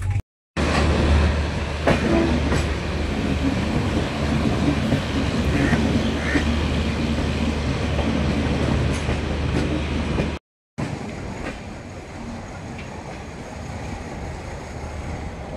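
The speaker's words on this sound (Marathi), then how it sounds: "तर कोनार एक्सप्रेससोबत आपलं क्रॉसिंग होतं आहे आता." Konark Express hauled by a diesel engine passes on the crossing track beside a moving train, a loud sustained rumble and rattle of wagons heard from inside the coach, with a short cut before it continues.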